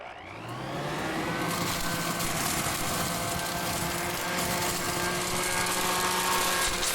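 A WORX Trivac WG512 corded blower vacuum spins up within the first second, then holds a loud, steady motor whine with a rushing airflow hiss and sustained tonal hum.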